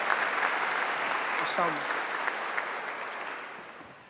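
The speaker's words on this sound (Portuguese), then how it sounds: "Pode aplaudir a palavra de Deus." A church congregation applauding at Mass, a steady wash of clapping throughout, briefly overlaid by a spoken voice near the middle, tapering slightly at the end.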